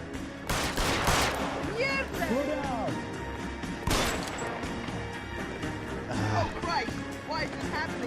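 Gunfire from the video game L.A. Noire: a few sharp, loud shots cracking through a busy game soundtrack, with voices talking over parts of it.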